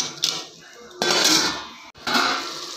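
A lid set onto a cooking pot of Chettinad-style moong dal with cabbage gives a few close metallic clanks and scrapes, loud and sharp, with no voices.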